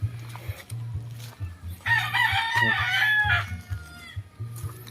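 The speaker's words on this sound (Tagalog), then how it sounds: "Manok pang sabong talaga to." A single fighting rooster crows loudly and close by on a farm in Antipolo, one long drawn-out call rising over a steady low mechanical hum.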